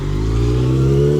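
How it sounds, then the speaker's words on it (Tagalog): Motorcycle engine revving up close in a short burst, a loud steady mid-pitched roar that climbs slightly, with no talk. "Maingay yung motor mamaya."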